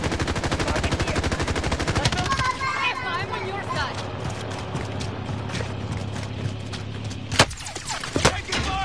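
Video game gunfire rattles in dense automatic bursts at first, then breaks into scattered single shots and a few louder close reports, while players talk over it.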